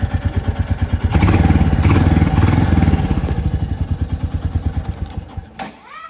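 A single-cylinder Royal Enfield Bullet motorcycle engine thumps steadily up close, revving briefly higher before easing back to a slower, rhythmic idle.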